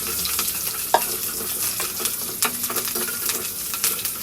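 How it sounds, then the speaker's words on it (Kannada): Chopped green chillies sizzle in hot oil, a continuous crackling hiss broken by occasional scrapes and clinks of a stirring spoon, close and steady with no talk. "ಇವಾಗ ಕಟ್ ಮಾಡಿರೋ ಗ್ರೀನ್ ಚಿಲ್ಲೀಸ್ನ ತೊಗೊಂಡು ಮತ್ತೆ ಸ್ವಲ್ಪ ಹೊತ್ತು ಫ್ರೈ ಮಾಡಿ"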